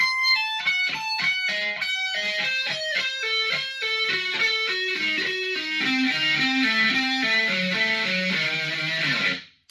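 A distorted electric guitar plays a fast descending diminished lick of quick picked notes, stepping steadily lower and ringing out at the end.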